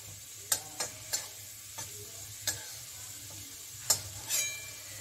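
Food frying in a pan in a home kitchen, a soft steady sizzle beneath a handful of sharp scraping clicks as a spatula stirs it, the strokes irregularly spaced and close by.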